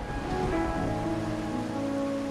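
Steady rain falls in a Wuthering Waves game scene, a constant soft wash of drops with faint musical tones layered over it, no voices.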